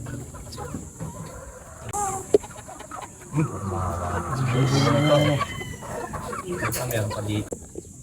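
An imported Golden Boy gamefowl rooster at the Laramaya farm clucks repeatedly, with a burst of louder calls in the middle. Other fowl and faint voices can be heard in the background.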